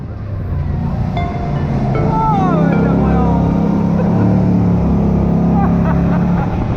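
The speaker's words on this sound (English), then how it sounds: "we have enough time just to do one more 360-degree turn" A loud jet boat engine roars steadily and rises in pitch as the craft spins through a 360-degree turn in Wanaka, New Zealand, with voices calling out over the rushing water and wind.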